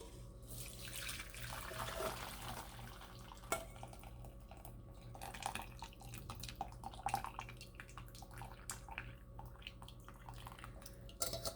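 Steady trickling and splashing water as spinach cooking water is poured through a strainer, with occasional light metallic clinks throughout.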